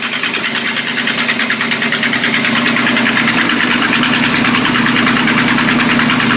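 The engine of an abandoned 1976 Winnebago Brave motorhome runs on gas, idling loudly and steadily with a rough, knocking pulse throughout and no voices.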